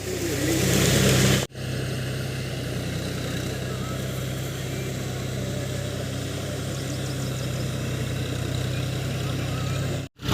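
A John Deere 5045 D tractor runs with a rotavator attached, producing a loud, steady mid-pitched engine drone. The drone continues almost unbroken apart from a brief dip near the start.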